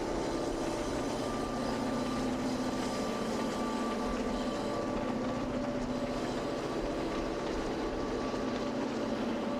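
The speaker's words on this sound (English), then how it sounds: "This is a going-away shot of a different Domeliner west of Dale Junction." A Domeliner passenger train pulling away west of Dale Junction, a steady broad rumble with a sustained tonal hum, holding at a moderate level as it recedes, with no voices.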